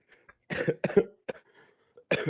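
A person coughs several times in quick, harsh bursts close to the listener, with short pauses between fits.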